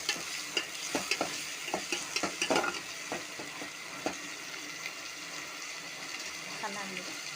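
A tomato and coriander dish bubbles and sizzles in a pot, with scattered soft pops and stirring clicks over a steady simmering hiss, fairly quiet, while a person talks faintly at times.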